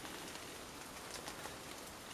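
Steady rain falling in Ireland, a dense even patter of raindrops across a surface, close and continuous with no voices.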